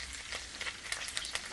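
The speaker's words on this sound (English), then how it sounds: "I'm just frying the onions." Onions fry in a little oil in a pot, giving a soft, steady sizzle with faint crackles and a brief stirring clatter near the end, fairly quiet and close, with no talking over it.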